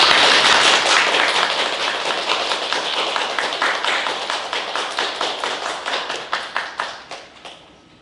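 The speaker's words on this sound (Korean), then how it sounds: "우리 설교로 나오실 때 따뜻하게 박수로 환영하도록 하겠습니다" A church congregation at a Sunday service applauds to welcome a pastor. A dense burst of clapping thins into slower, rhythmic unison claps that fade out near the end.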